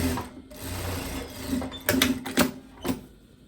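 Domestic sewing machine stitching an inward seam on a blouse, a close, steady motor whir with faint rapid needle ticking that speeds into several louder bursts toward the end, no talking.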